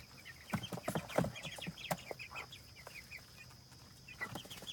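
Cornish cross chickens clucking in a chicken tractor, with scattered soft clucks and chirps in an irregular rhythm over a quiet background. No voices.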